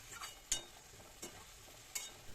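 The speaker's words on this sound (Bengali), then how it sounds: "আমি এই মশলাটাকে এভাবেই কষিয়ে নিচ্ছি" Spice masala for a jackfruit and prawn curry is being stirred and fried in a pan, with a few sharp spoon scrapes spaced about a second apart over a faint, low sizzle.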